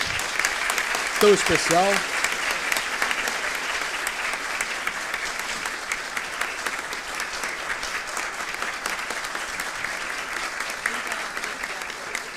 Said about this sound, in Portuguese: Mais uma vez, aplausos por esse dia